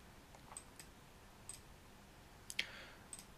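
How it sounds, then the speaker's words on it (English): A computer mouse gives a handful of faint, sharp clicks at irregular intervals in a quiet room. "Again, right click."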